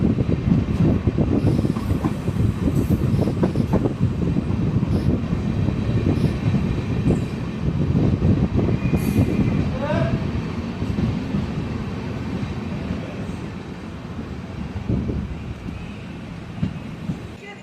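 The Rameswaram–Mangalore Express rumbles steadily along the rails approaching Palani station, with rhythmic wheel clatter, a brief squeal of wheels midway, and the roar holding loud throughout.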